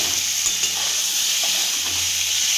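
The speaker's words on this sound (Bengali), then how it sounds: "আর এই যে আলু বেগুন কষাচ্ছি" Potato and eggplant being sautéed in a pan, with steady loud sizzling and occasional stirring scrapes throughout, heard close with no voices.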